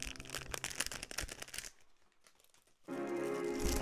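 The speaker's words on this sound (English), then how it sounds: "Oh, you could hear the packaging now." Plastic packaging crinkles and tears as it is pulled open close to the microphone, a dense crackling burst that pauses briefly and then resumes loudly.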